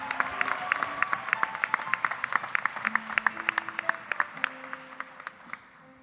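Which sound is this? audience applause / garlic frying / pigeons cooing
audience applause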